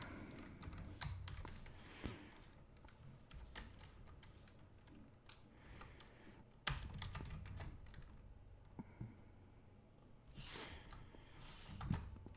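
Steady typing on a computer keyboard, with a dense run of close key clicks and a few louder strokes, continuing alone with no voices.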